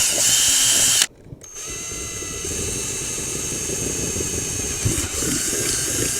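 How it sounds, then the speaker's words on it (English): A power drill whirs steadily while boring a bolt hole for bike fenders on a Giant Contend AR road bike, with a brief pause before the motor spins up again and runs on continuously. "When you use a drill, you want to use the smallest drill bit first, just to get it started"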